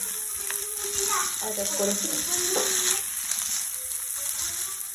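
Cumin seeds and two dried red chillies frying in hot oil for a spinach (palak) dish, a steady close sizzle and crackle running the whole time with some faint clinks of stirring.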